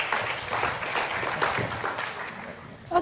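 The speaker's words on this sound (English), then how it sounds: "can we have a round of applause for Vanessa Carlini?" A room applauds Vanessa Carlini of Baby Deli at a Martinhal event, a moderate, even patter of clapping from a modest audience lasting a few seconds.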